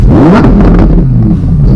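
Loud, close engine revving from a Lamborghini Huracán Performante Spyder in Corsa mode, a rising then falling exhaust note, a deep throaty roar that stays steady for a couple of seconds.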